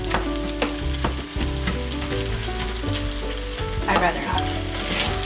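Fried rice sizzles loudly and steadily in a hot pan while being broken up and stirred, with scraping and clattering throughout and a brief spoken remark over it.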